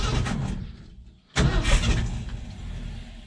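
A hot rod highboy car engine with a weak fuel pump cranks briefly, goes quiet for a moment, then catches and roars to life before settling into a rough idle.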